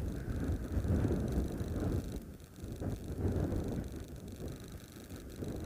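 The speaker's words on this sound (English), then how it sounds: "So it is rather windy here." Gusty wind buffets an outdoor microphone on an afternoon safari drive on the eastern side of Kuricha, a steady low rumble swelling and easing in waves without speech.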